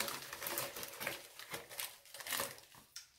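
Scissors cut open a skincare product package, giving faint crinkling and snipping bursts of plastic and paper that rise and fall irregularly over a few seconds.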